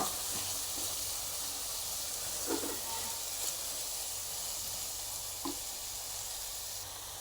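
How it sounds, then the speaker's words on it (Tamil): Chopped vegetables and mushrooms sizzle steadily in a hot pan for mushroom biryani, a continuous close frying hiss with a few faint clinks of stirring and no talk. "நாம் எடுத்து வச்சுருக்கிற காய்கறிகள் இந்த காளான் எல்லாத்தையும் சேர்த்து நல்லா வதக்கி கொடுக்கலாம்"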